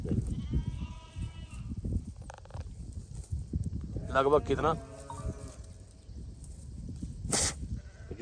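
A large flock of sheep and goats in a remote forest bleats repeatedly, nasal cries rising and falling at various distances beneath a voice conversing in Hindi.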